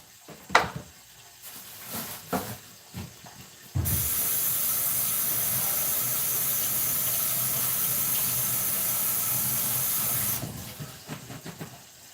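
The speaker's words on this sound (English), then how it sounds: "I'm just taking the mushrooms out right now, and I'm gonna get them rinsed off." Mushrooms rinsed under a running kitchen tap: a steady, fairly loud rush of water lasting about six seconds, bracketed by brief clatter and handling sounds before and after.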